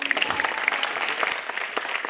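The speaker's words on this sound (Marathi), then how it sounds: "वाजून घ्या टाळ्या" Audience applause during a Marathi poetry recital, a steady burst of many hands clapping together, close and lively, continuing for a couple of seconds.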